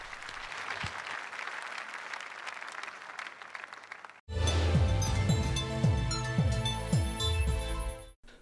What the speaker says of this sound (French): Encore une fois, applaudissons pour Jésus-Christ.